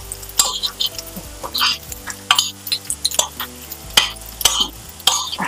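Coriander powder stirred into tomato rice masala frying in a pan, with repeated scraping spoon strokes and soft sizzling in an irregular rhythm, close and fairly loud.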